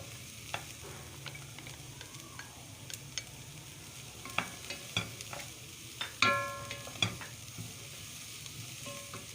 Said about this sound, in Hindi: और इसको भी अच्छे से फ्राई करेंगे। साथ ही इसके हमने जो शिमला मिर्च चॉप की हुई है वो डाल देंगे